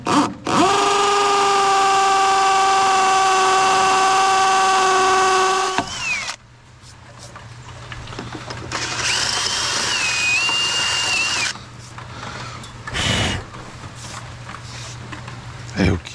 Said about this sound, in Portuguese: Aqui nós vamos fazer o buraco para passar o fio.